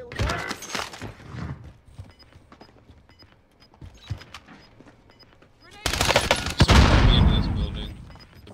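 A PPSh submachine gun rattles off rapid bursts in a video game: a loud burst opens, sparse distant shots follow, then a longer, heavier stream of automatic fire.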